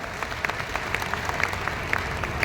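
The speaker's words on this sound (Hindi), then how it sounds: "एक बार जोरदार ताली बजा दी" An audience claps in loose applause at a motivational seminar, a steady patter of many hands held at moderate volume through the whole stretch, with no voices heard.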